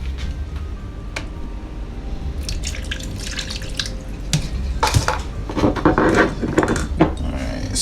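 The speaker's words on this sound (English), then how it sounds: "And then I'm going to go ahead and add some water." Water being added to barbecue sauce for a Caribbean BBQ sauce, with close splashing and dripping, punctuated by clinks of a utensil against a pot or bowl, growing busier in the latter half.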